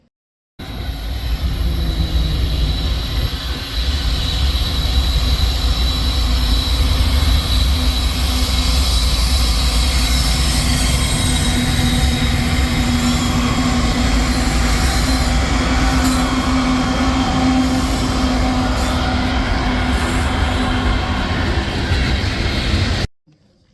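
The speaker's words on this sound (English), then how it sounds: "Southern train number 66R with Canadian National 100th Anniversary Unit number 3229 trailing second, and a General Electric ET44 AC demonstrator trailing third" A Canadian National freight train with a GE ET44AC demonstrator trailing rolls past close by, a loud continuous rumble of wheels and cars with faint squeal, sustained for over twenty seconds.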